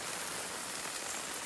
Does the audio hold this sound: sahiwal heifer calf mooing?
no